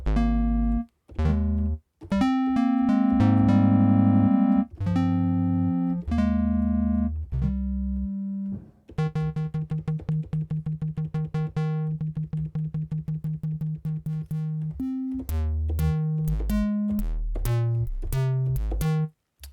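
FM synthesizer plucked notes with bright metallic overtones play a rhythmic, bouncing pattern, some passages rapidly repeating a single pitch, loud and close with no voices.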